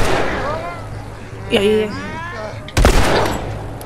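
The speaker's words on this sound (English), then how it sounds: "Oh my gosh, I'm shooting Ellie more than I'm shooting these guys." Gunfire in The Last of Us: two sharp shots crack out a second or so apart over game sounds, while a player talks excitedly nearby.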